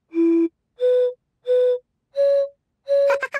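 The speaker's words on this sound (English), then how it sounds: "You can also blow across the bottle tops to get a sound." Someone blows across the tops of water-filled bottles in a cartoon, producing five separate hollow, flute-like tones at a steady rhythm, each about half a second long, the last one trailing off into a brief clatter.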